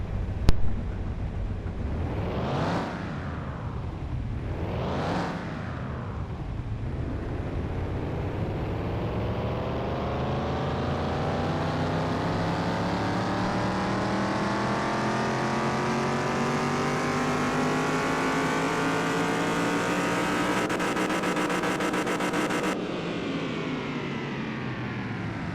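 A 1932 Ford deuce coupe engine in Car Mechanic Simulator 2021 revs hard twice, then winds steadily upward on a dyno run in one long, loud, climbing drone before cutting off near the end.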